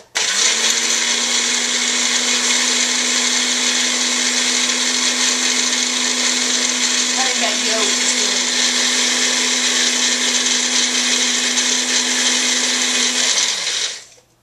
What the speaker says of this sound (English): give it a good whirl for about 15 seconds